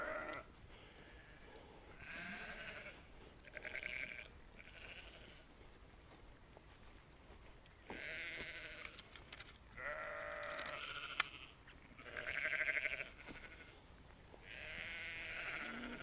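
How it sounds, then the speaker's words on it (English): Sheep on a farm bleat repeatedly, a series of separate calls of varying length spaced across the stretch, moderately close against a quiet background. "Bloody sheep."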